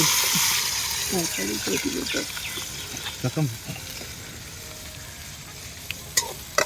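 Onions frying in a pan for an egg gravy, a soft sizzle with stirring scrapes and clinks, some faint voices mixed in and a brief watery splash near the end.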